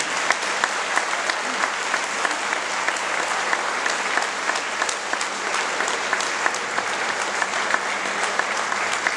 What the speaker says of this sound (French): je voudrais qu'on applaudisse encore bien fort.